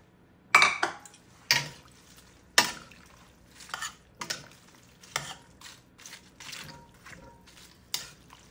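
Shredded cabbage goes into a pan and gets stirred: a series of spaced scraping and clattering strokes of a utensil against the pan, close and fairly loud, with quiet pauses between them.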